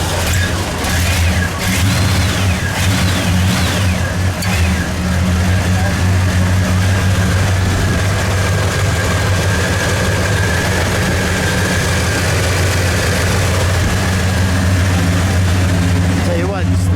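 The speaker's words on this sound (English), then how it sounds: "Well, let's fire it up, shall we?" A 1986 Chevrolet Monte Carlo SS with a five-speed and dual exhaust runs close by, a loud, deep, steady engine rumble that holds throughout, with voices at times beneath it.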